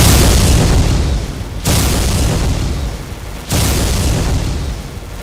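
Loud, rumbling booms of video game bomb explosions, three heavy blasts each followed by a long roaring decay that fills the clip.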